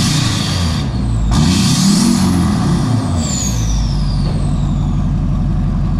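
A diesel LBZ Duramax truck fitted with a PPE turbo down pipe runs loud and close, with a deep, steady exhaust drone that swells as the engine revs up and then settles, and a hissing whoosh overhead.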